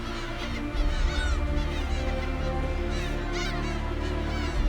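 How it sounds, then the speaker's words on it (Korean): A young gull calls repeatedly as it takes flight over Dokdo island, harsh rising cries close by over a steady windy background with no voices. "새끼 갈매기가 날아오릅니다."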